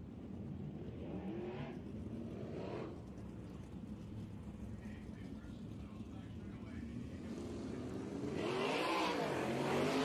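Sprint race cars in the 360 class at East Bay Raceway Park circle the dirt track behind a pace truck, their engines droning and swelling past at a distance under an announcer's commentary.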